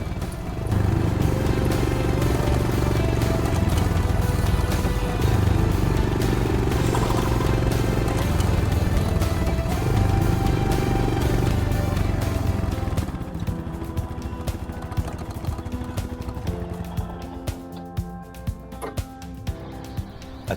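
Royal Enfield Himalayan motorcycle riding along a badly damaged outback road, its engine droning loud and steady, with rattles and knocks from the rough surface becoming more noticeable toward the end.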